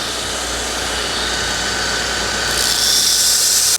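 A power grinder roughing a steel horseshoe rasp into a dagger runs steadily and loud throughout, its whine rising and brightening near the end before cutting off abruptly.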